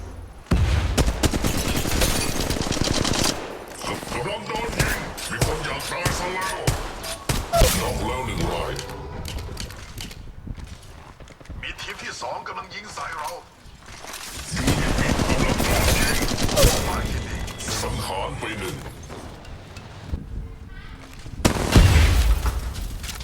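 Apex Legends Mobile gameplay fills with dense bursts of automatic gunfire, single shots and booming explosions, nearly continuous with short lulls. A voice talks over the action at times.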